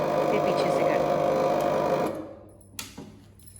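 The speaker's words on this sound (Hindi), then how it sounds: "इसको ऑन किया जाए ताकि यूपीएस चले और लाइट आए, लेकिन ये देखिए इससे कितनी भयानक आवाज़ आई" A household UPS power unit switched on gives a loud, steady mechanical grinding drone for about two seconds, then it cuts off, leaving a few faint knocks and low background sound.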